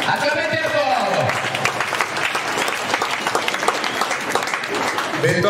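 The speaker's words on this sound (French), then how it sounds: "Est-ce qu'on peut applaudir? Acclamez très fort." Audience applauding at a school results proclamation ceremony, a sustained burst of dense clapping filling the space, loud and continuous throughout with some crowd noise mixed in.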